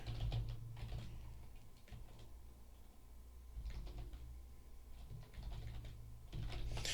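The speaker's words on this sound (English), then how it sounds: "Let me actually just type it." Rapid computer keyboard typing in bursts, fairly close and moderately loud over a steady low hum, with short pauses between runs of keystrokes.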